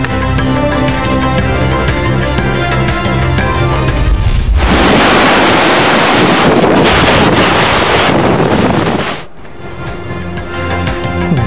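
Gusty wind and rain roar across Karachi after a severe heat spell, a loud continuous rushing wash that surges in the middle and briefly drops before picking up again.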